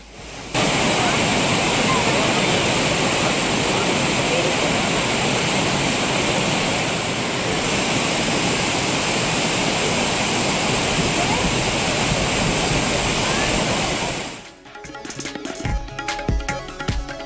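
The Courtallam waterfalls in Tamil Nadu pour down with a loud, steady roar of rushing water that fills the scene, running unbroken for about fourteen seconds before cutting off abruptly.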